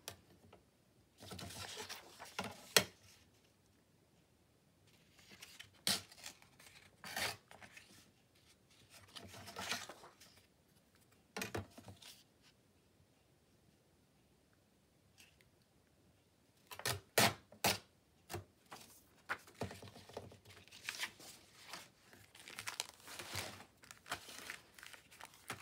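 Paper being torn by hand along marked tear lines on a craft pocket tag, heard as quiet, close bursts of crinkling and ripping separated by silent pauses.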